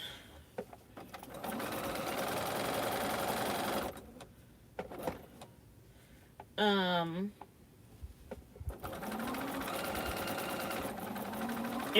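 A sewing machine stitches quilt half square triangles in long, steady runs with brief pauses between seams, and a short whirring burst midway.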